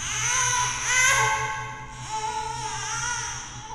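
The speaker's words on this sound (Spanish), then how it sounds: "entre el monte comenzamos a escuchar el llanto de un bebé" A baby cries out from the bushes in a horror-story scene, a loud, sustained wailing sob rising and falling in two long drawn-out bursts.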